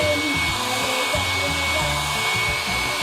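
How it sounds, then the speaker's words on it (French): A hair dryer blows steadily on a pair of shoes to stretch them, a loud, continuous close-up whir with no talking. "Avec un sèche-cheveux, surtout faites attention de ne pas vous brûler."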